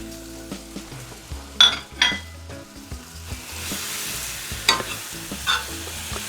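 Sliced bananas and light brown sugar sizzle and fry in a pan for a bananas Foster flambe, with a steady close sizzle broken by several sharp stirring scrapes and clinks of a utensil against the pan.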